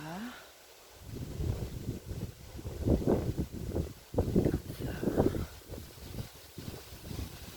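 Wind gusts outdoors above a lake, a steady blustery rumble against the microphone, with a person talking over it throughout.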